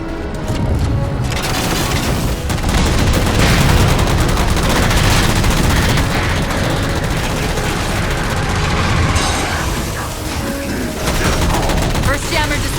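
Heavy, dense gunfire in the Halo 4 campaign while shooting down jammers, rapid bursts and booms in a continuous loud barrage, close and chaotic, with game voices mixed under the shooting.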